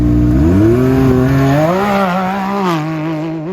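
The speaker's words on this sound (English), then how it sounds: "just listen to the sound of these things" Powerful off-road UTV engines roar loudly in the desert, revving up and shifting through gears with a raspy exhaust note, close and continuous.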